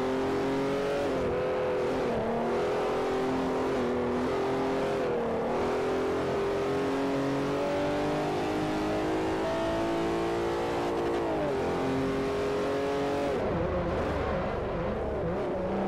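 Race car engine in Forza Motorsport 4 droning steadily at high revs, pitch dipping and climbing through gear changes and corners, loud and continuous with no talk.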